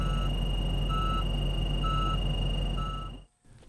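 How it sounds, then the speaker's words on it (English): Rear object detection alarm on a K-series loader beeping in short, evenly spaced pulses, about four in a row, over a steady loud engine drone that cuts off near the end. "Rear object detection alerts the operator to objects behind the machine with an audible alarm"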